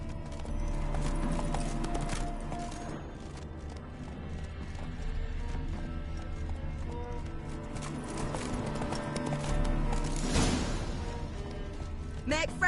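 Galloping horse hooves in The Witcher 3 video game, a steady clip-clop running under game music and a voice talking.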